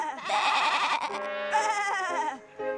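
Sheep bleat loudly up close in an animated cartoon series set among farm animals, with wavering, drawn-out baas that overlap and trail off.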